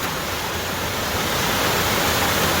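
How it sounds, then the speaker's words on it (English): Wilson Falls on the Oregon coast in late December roars as a steady, loud broadband rush of falling water, unbroken and close by with no voices. "coming around this corner is the Wilson Falls"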